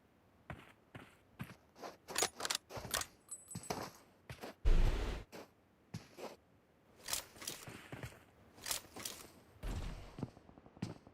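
Gunfire from a PUBG tournament match: sharp single shots and short bursts, spaced irregularly across the stretch, with a couple of heavier booming reports standing out.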